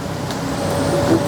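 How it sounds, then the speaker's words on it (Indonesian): A bus rumbles past close by on a road in Kali Duren Jaya, Bekasi, a steady low engine and tyre drone swelling slightly toward the end, with no voices over it. "Bus."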